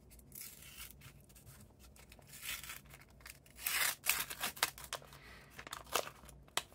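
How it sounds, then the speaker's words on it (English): Scissors cutting open a Pokemon Topps Merlin sticker pack close to the stickers, with soft snips at first, then louder crinkling and tearing of the foil wrapper in quick, irregular bursts. "I have to cut it quite close to the stickers"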